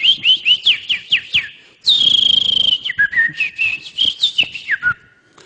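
A man whistles imitations of sparrow chirps, giving quick repeated descending tweets, then a sustained high whistle and more chirping trills, loud and close with no talk over it.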